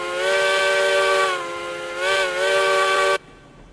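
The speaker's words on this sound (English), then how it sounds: "I do dig the whistle." Steam locomotive whistle in the railroad game RailRoads Online, a loud, close, harmonically rich tone held for about three seconds with a slight dip and swell midway before cutting off abruptly.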